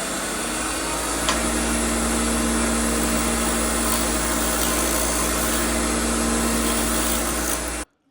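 A lathe running steadily while turning a wooden tamper handle, a loud continuous motor hum with a low drone and a constant cutting rasp, close, then abruptly stopping.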